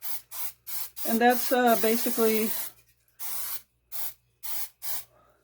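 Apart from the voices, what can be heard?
Crisco butter nonstick cooking spray sprayed on pan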